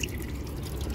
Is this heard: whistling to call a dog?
no